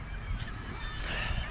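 Birds honking outdoors in the cold, a goose-like chorus of repeated calls over a noisy, rumbling open-air background, fairly faint and continuous.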